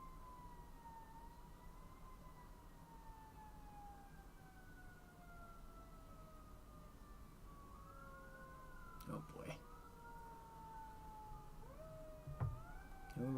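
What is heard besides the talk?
fire engine and police car sirens passing outside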